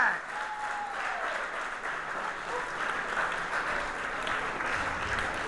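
A comedy club audience in Providence applauding, a dense steady wash of clapping from many hands that carries on at an even level throughout, with a faint voice sliding in near the start.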